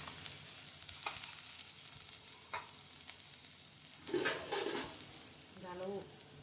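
Soft sizzling and stirring of sambar ingredients sautéing in a pan, with a few scraping clatters and faint voices in the background.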